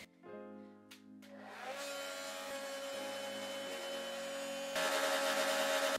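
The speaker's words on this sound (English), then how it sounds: "Put the blow dryer on cool and blow my face." A handheld blow dryer running on its cool setting gives a steady, close whooshing roar with a whining motor tone that shifts pitch slightly and grows louder toward the end.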